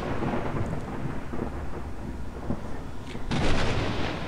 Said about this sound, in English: Kind of sad the storm killed my beautiful sunshine.